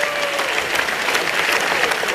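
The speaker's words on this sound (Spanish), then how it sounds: "Aplausos, señores, para ambos." Boxing arena crowd applauding both fighters after a twelve-round bout, sustained dense clapping with scattered shouts, while a faint voice talks underneath.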